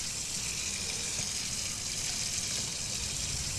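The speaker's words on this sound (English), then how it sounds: "There should be water coming in there, but you can see it's filling up." Water in a kitchen sink in Hello Neighbor runs steadily from the tap, a constant even hiss and gush with no voices over it.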